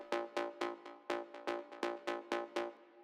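Plucky synth notes in an Afro Tech beat, about ten short bright hits with quick decays, played in a steady syncopated rhythm, clean and alone with nothing else behind them.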